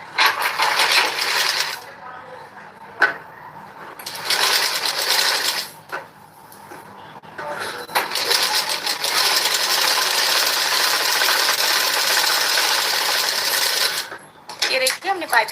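A sewing machine stitches piping onto a blouse in several loud, rapid bursts separated by short pauses, with a long continuous run near the end; light handling clicks fall between the stitching runs.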